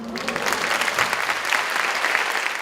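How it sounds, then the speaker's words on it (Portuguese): An audience at a live Sesc talk event applauds intensely, dense steady clapping filling the whole stretch at a constant loud level with no voices over it. "A plateia aplaude intensamente a leitura de Geni e, consequentemente, Ailton"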